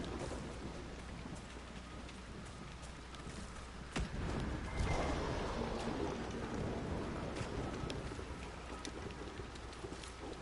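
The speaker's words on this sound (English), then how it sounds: "It never stops raining here." Continuous steady rain pours down in the Hinterlands of the video game Dragon Age: Inquisition, with a rumble of thunder in the middle, the downpour hissing evenly throughout with no voices.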